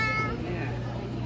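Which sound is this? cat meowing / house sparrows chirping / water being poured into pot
cat meowing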